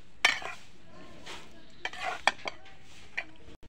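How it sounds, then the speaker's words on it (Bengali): A spoon stirs Malabar spinach and dried fish curry in a pan, scraping and clinking against the metal with a few sharp knocks, close and fairly quiet. "নাড়াচাড়া হয়ে গেছে"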